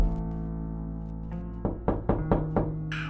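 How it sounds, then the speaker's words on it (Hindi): Loud knocks on a door for a horror story, five hard thuds in an uneven sequence after a low sustained drone, ending on a brief brighter sound. "दरवाजा में जोर जोर से खटखट की आवाज होने लगी"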